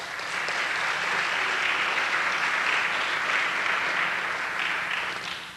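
A lecture audience applauds steadily for several seconds, a dense even clapping that fades slightly at the end.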